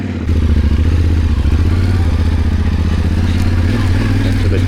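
A motorcycle with softer tyres climbs uphill on a trail in the Ongeluksnek Nature Reserve, its engine loud, close and steady with a rough, clattering throb throughout.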